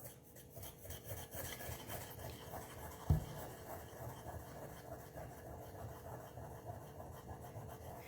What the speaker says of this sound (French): On va mélanger tranquillement.